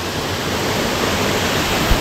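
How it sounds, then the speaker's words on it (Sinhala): Knuckles waterfall, a small, low fall reached by a short walk, pours with a steady, dense rush of water heard up close, continuous and unbroken. "මේ තමයි අපිට හම්බෙච්ච පළවෙනි ඇල්ල නකල්ස් ඇල්ල"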